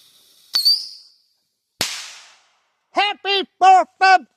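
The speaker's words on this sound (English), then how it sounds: "Supposed to whistle and take off a little bit better than that." A whistling firework launched outdoors for the 4th of July gives a sharp whistle and crack, then a hissing burst, followed by a run of several rapid, loud, pulsing whistle shrieks close by.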